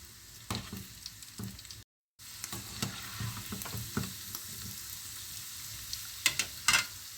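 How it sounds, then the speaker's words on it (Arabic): Chicken fries until browned for a roast-style dish: a continuous close sizzle broken by scraping and stirring clatter, with one short silent gap partway through. "غنخليه يتحمر وغادي نحيدو."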